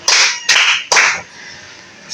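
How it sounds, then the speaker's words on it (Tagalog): A classroom of children claps three times in a quick, even rhythm, three sharp group claps close together, then quiet room sound. "Bigyan ng 3 palakpak si Jenny."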